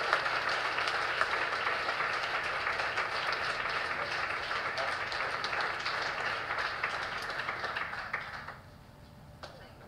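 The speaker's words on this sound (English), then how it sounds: "let's give a round of applause for Mayor Taveras from Providence" Audience applause for Mayor Taveras of Providence, a dense, steady wash of clapping from a large crowd that holds for about eight seconds before dropping away to a quieter tail.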